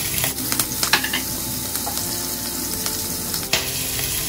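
Cumin seeds and chopped green chili sizzle sharply in hot oil, making a bright, close crackle with a few quick clicks and a burst near the end.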